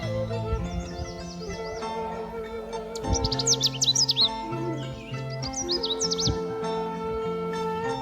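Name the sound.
birds chirping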